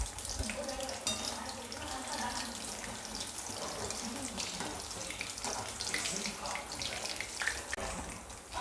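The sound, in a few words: coated soybean manchurian frying in oil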